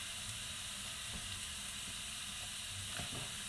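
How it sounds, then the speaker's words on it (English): Onions sauté in a pan with a continuous, moderate sizzle and hiss, plus a few faint clinks and stirring knocks, with no voices. "But I'm sauteing up some more onions"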